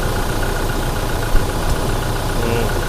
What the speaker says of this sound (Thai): ไม่มีไอเครื่องยนต์ติดง่ายเดินเรียบ